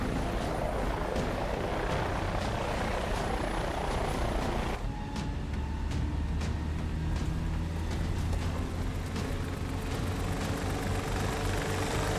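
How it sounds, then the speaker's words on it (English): A helicopter in flight gives a loud, steady rotor thump and engine whine throughout, close by, with its tone shifting partway through and no talking. "Get the chopper."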